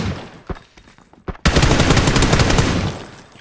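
Gunfire in PlayerUnknown's Battlegrounds: a couple of isolated shots, then a loud sustained burst of rapid automatic fire that runs for about two seconds and trails off.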